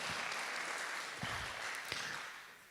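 A room of people at an innovation week event claps for the organizing team, a soft, fairly distant patter of applause with a couple of louder thumps, fading near the end.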